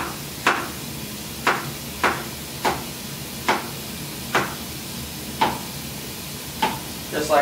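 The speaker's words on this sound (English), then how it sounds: "We're just going to cut these in probably like little fourth little segments." Knife chopping zucchini into short segments on a cutting board, eight sharp evenly spaced thuds about one every 0.9 seconds, close and clear with no talking.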